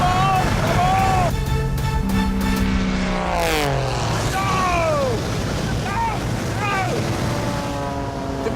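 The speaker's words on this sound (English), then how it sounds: "Did we just get beaten by a plane?" A racing propeller plane roars past at low level during a race against a car, its engine tone sweeping downward in repeated Doppler passes, loud and close, with excited voices talking over it.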